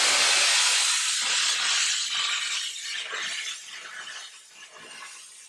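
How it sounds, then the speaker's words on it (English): A Chief Steamer 155 steam cleaner, 240-volt model, blows steam at full blast in a loud, steady broadband hiss that slowly eases and wavers slightly toward the end, with no voices. "I was blowing steam at full blast"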